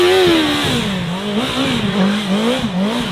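A 170 hp motorcycle revving hard during a drift, a loud close engine whose pitch rises and falls in quick waves, steady and alone with no talk.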